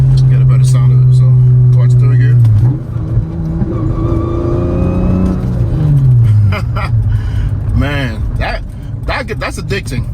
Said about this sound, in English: Sounds like a supercharger.